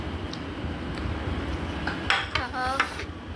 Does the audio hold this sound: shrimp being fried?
yes